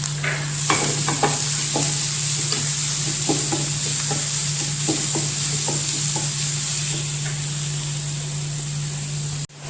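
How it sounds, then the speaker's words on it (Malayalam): A handful of coconut roasts in ghee for a clam roast, giving a steady close sizzle with spatula scrapes and stirring taps throughout, with no talking. "നെയ്യിലേക്ക് ഒരു പിടി തേങ്ങ വറുത്തെടുക്കാനാണത്."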